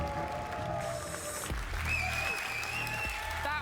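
Audience applause at the Gamescom 2019 Inside Xbox show, a steady wash of clapping from a large crowd that carries on throughout with faint tonal sounds over it.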